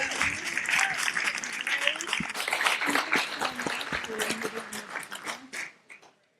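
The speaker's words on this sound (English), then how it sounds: "just give them a great round of applause for their great work." Sustained audience applause at a policy panel on state action against medical debt, dense clapping from a sizable crowd that swells and then thins out over the last seconds, with faint voices underneath.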